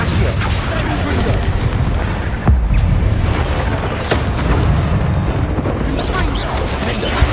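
Confringo and Bombarda spell blasts in Hogwarts Legacy, repeated booming bursts and rumbling impacts amid a loud, busy din, with a voice speaking over them.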